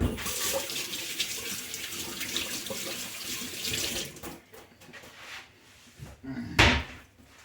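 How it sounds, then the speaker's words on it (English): Tap water runs steadily into a kitchen sink while a hand is rinsed under it, close and continuous, then cuts off with a brief clatter near the end. "Rinse off my hand again before I dip it in that."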